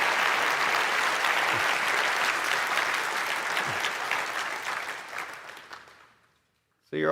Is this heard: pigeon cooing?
no